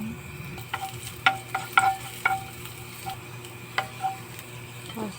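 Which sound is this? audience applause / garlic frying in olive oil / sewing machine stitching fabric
garlic frying in olive oil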